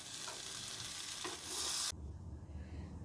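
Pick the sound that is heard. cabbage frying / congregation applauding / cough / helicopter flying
cabbage frying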